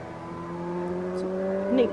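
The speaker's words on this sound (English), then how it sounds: "And the noise of motorbikes." Motorbikes passing on a road below a viewpoint over a weir in the Australian bush, a steady engine drone with rising, shifting tones growing slightly louder near the end, heard from a distance.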